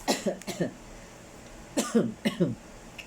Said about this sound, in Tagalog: ito pa yung tira nung bagong taon na ubo